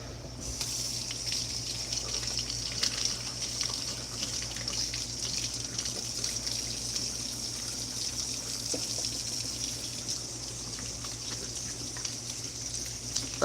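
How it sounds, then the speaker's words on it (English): Water runs steadily from a sink tap during handwashing with soap, a continuous close gushing hiss that lasts throughout with no talking. "So you wash your hands by using water, a sink, and soap"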